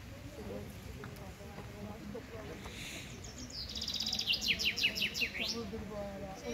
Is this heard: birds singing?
yes